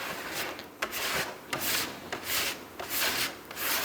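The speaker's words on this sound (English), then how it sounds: "Get the old sanders out." Body filler on a car panel being sanded by hand, a run of rough, rhythmic rubbing strokes with short scraping bursts, close and steady, with no voices.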